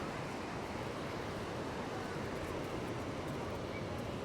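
Ocean surf at Moonlight Beach in Encinitas, a constant broad wash of waves mixed with wind rumble, even and unbroken throughout.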